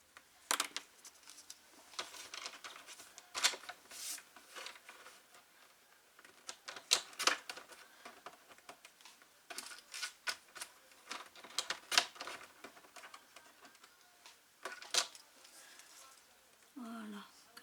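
Scissors trimming excess paper from a handmade spinning card, a quiet run of crisp, irregular snips and rustles, with some soft talking.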